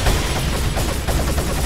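Rapid gunfire in Resident Evil 4, a loud, tight burst of repeated shots crackling continuously over a heavy low rumble, with no talking.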